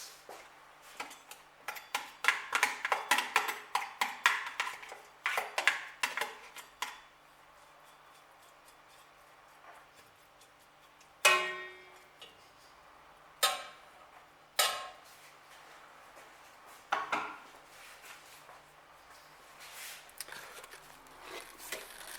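A mixing utensil clinking and scraping against a pot while potato soup is stirred: a quick run of tapping knocks, then sparse single clanks after a pause, close by with a little talk.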